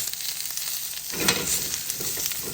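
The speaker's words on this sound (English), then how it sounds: "I'm keeping it on really high heat right now. Okay. I haven't cooled it down. I'm really searing everything really good." Bacon, mushroom and cabbage sear in a pan over really high heat, giving a steady close sizzle that swells louder and busier about a second in. No one speaks.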